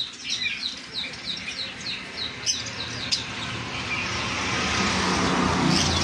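Caged cockatiels and other pet birds in a shop chirp in a quick run of bright, repeated tweets and squawks, close and fairly loud, then fade into a steady background hum.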